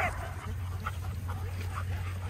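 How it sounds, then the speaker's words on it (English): Excited dogs, a Weimaraner and a Golden Retriever among them, whimper and yip repeatedly over a constant low hum, with soft human talk in the background. "Dogs are excited,"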